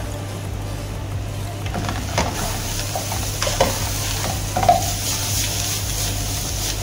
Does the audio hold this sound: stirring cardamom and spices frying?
yes